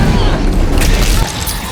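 Thrown ammunition explodes in a film scene, producing a loud, sustained, dense boom with a broad rumbling roar that fills the whole moment and eases slightly near the end.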